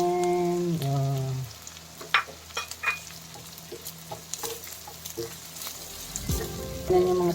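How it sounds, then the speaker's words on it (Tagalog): Sliced Hungarian sausage drops into a pan of fried onions for sizzling sisig, giving a soft crackling sizzle with scattered pops and utensil clinks; a brief voice is heard at the start and again near the end. "pwede na natin mga suki ilagay yung ating Hungarian sausage na in-slice"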